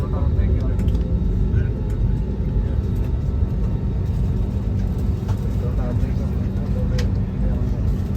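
Steady loud low rumble of an airplane cabin after touchdown at Kochi airport, engines and ventilation droning continuously with faint clicks and shuffling.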